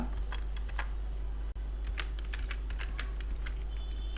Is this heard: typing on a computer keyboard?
yes